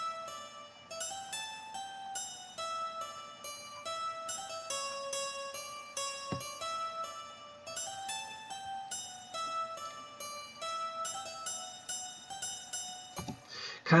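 A soft, programmed guitar melody for a drill beat built in FL Studio plucks steady, evenly spaced notes, close and quiet, with a brief low thump midway and a sharp hit at the end.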